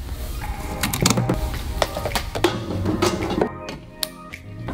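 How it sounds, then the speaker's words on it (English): Close, sharp clicks and metallic clatter as an air line is disconnected from a paint pressure pot and attached to a Solvent Saver's air input, in an irregular series of fittings snapping and handling noises. "Next, I'll disconnect the air line from my pressure pot and attach it to the air input of the Solvent Saver."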